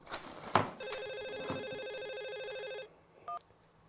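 An office telephone rings with a steady, electronic warbling tone lasting a couple of seconds, fairly close, preceded by a few knocks and followed by a brief pickup click and beep.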